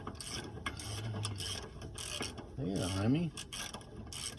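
A cordless impact driver removes lug nuts from a 1940 Plymouth panel truck in short, clattering mechanical bursts. A brief voice is heard partway through.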